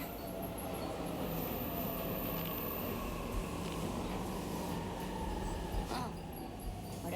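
A train from 13 Sentinels: Aegis Rim rumbles at a station with a continuous low mechanical roar and faint high squeals, steady and loud throughout, with no voices.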